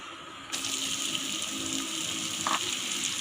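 Three large chopped onions hit hot oil with whole spices, starting a sudden loud hiss that settles into a steady, close sizzle. A short bright clink sounds near the end.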